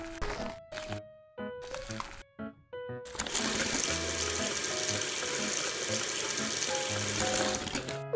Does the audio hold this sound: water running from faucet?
yes